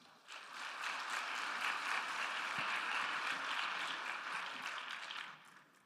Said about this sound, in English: One more round of applause for Dr. Kabuteni